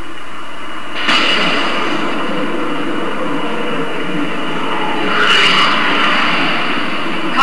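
Pelican dropship engine in Halo 4 spooling up: a broad, loud roaring whoosh that starts abruptly, holds a steady rushing drone, then swells again near the end.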